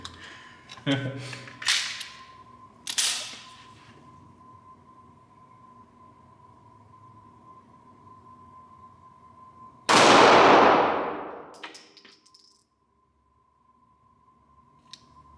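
A Sig Sauer P365 SAS 9mm micro-compact pistol fires a few sharp, loud shots outdoors, spaced a second or so apart, followed by a long bright crack near the end and quiet talk in between.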